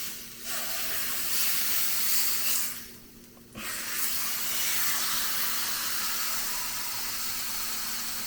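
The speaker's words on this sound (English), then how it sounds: "I'm going to now put the meat in the skillet and I am going to fry it up just a tiny bit" Meat sizzling in a skillet with a few drops of oil for a pot roast, a steady broadband hiss that drops briefly partway through and then resumes, close and continuous with no talk.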